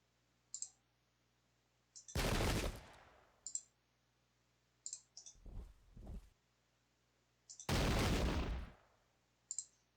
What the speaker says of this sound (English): trying to engage in a firefight against musketeers, or matchlock men in this case